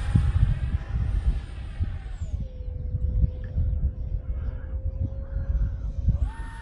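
An X-36 model aircraft flies overhead outdoors in gusty wind, its engine a steady whine that dips in pitch midway and rises again near the end, heard against constant wind rumble.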